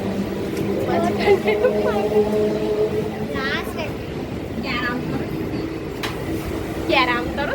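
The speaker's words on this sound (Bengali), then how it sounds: "দেখো নিউ ট্রেনে উঠেছি আমরা" Interior of a train waiting to depart, with a steady low rumble and hum beneath people talking close by, and a few faint squeals and clatters breaking through.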